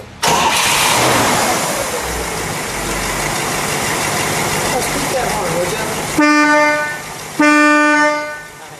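A 1958 Pontiac Bonneville Tri-Power engine cranks and catches, then rumbles steadily at idle, followed by two loud blasts of a car horn near the end.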